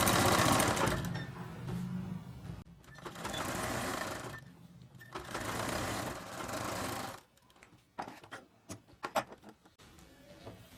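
Sewing machine stitching a seam on a baby shirt in long motorized runs with short pauses, then a stretch of brief stop-start bursts and clicks near the end.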